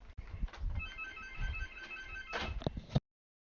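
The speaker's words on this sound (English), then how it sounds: "the phone starts ringing the minute I get back to work" A telephone in Ace Attorney Investigations rings with repeating electronic trills under background noise and shuffling, ending abruptly with a click.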